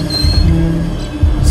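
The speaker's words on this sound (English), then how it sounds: "stopping a 300-ton train quickly is impossible. It screeches down the straight track." A 300-ton train under emergency braking screeches along straight track, a loud sustained high-pitched squeal of wheels on rails with heavy rumbling underneath.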